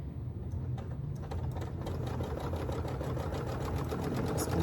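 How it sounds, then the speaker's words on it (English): A domestic sewing machine stitching a quilt with rulers hums in a steady, rapid, even rhythm at close range. The whirring runs unbroken throughout, with no talking. "So we're going to start sewing."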